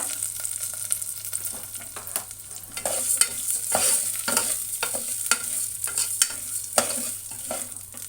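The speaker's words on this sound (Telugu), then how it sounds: "పప్పు కొంచెం దోరగా వేగాలి" Moong dal being stirred and roasted in a pan with onions, a steady background sizzle broken by repeated scraping strokes of the spoon across the pan, close up and with no talking.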